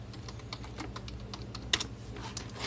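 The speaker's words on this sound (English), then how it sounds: "let me go ahead and type that in." Keys clatter on a computer keyboard in quick, irregular taps, quiet and close, with one sharper burst of clicks partway through and no voices.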